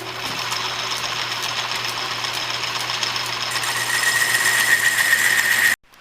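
A wooden dowel rod is cut down with a power tool, giving a steady, close buzzing whine that holds for several seconds and grows slightly louder before stopping abruptly.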